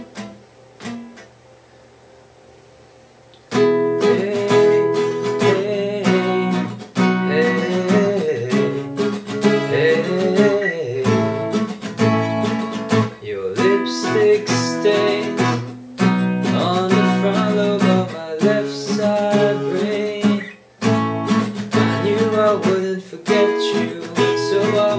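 After a quiet start, an acoustic guitar strums full bar chords steadily and loudly, changing chords in a rhythmic pattern with occasional brief pauses.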